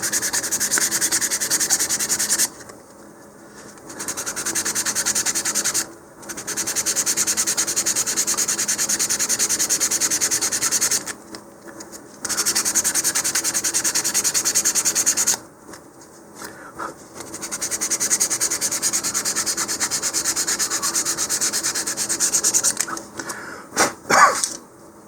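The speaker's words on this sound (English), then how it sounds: "you can lightly sand the centering ring there. Use some fine grit sandpaper and just go all the way around" Fine-grit sandpaper rubs around a model rocket centering ring for an Estes Zinger kit, making steady, close scratchy passes in several long bursts separated by short pauses.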